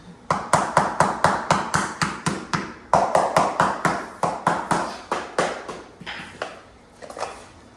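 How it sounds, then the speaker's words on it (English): Vinyl flooring planks being hammered down to lock them into place, a steady run of sharp, close knocks at a quick, even rhythm, softening and slowing near the end. "Probably use that to hammer down."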